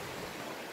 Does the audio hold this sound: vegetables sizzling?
no